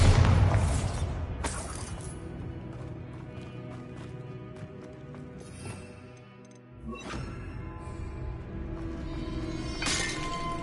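The Bombarda explosion spell in the video game Hogwarts Legacy bursts with a loud boom at the start, followed by scattered crashes, shattering debris and clattering impacts, with another sharp blast near the end.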